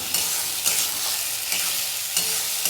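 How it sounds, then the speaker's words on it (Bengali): Spice paste for a Bengali fish curry sizzles and fries steadily in a pan over low heat, with repeated stirring scrapes every half second or so, close and fairly loud throughout with no voices. "এই মশলাটা কষা হোক"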